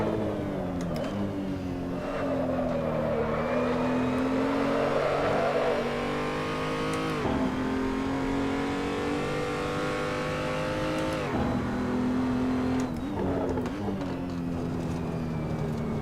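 A race car in Assetto Corsa laps the Nurburgring Nordschleife, its engine revving hard and running steady, with repeated downshift dips and tire noise, loud and up close throughout.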